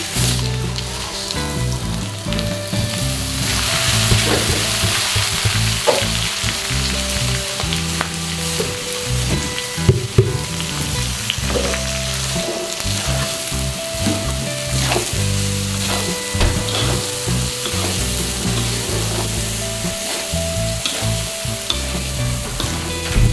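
Rice stir-fried with garlic in a pan, a loud steady sizzle with repeated scraping and clanking of the spatula against the pan throughout, close up and without talk.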